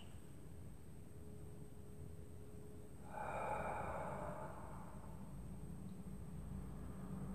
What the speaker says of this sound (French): prenez quelques respirations profondes, en inspirant par le nez et en expirant simplement par la bouche